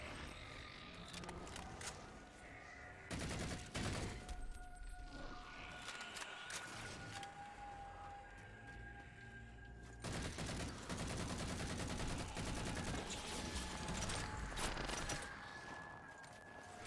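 Light rifle fire in a Halo video game, rapid bursts of metallic, energetic shots over continuous game sound effects and music, loud and busy throughout.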